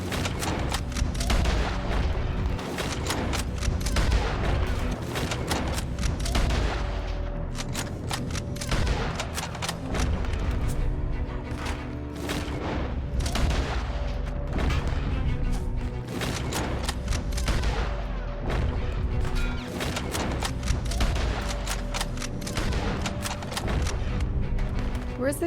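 Dense gunfire rattles through a Red Dead Redemption 2 shootout, with repeated sharp shots and heavier booms packed closely over the whole stretch, loud and near, while voices talk over it.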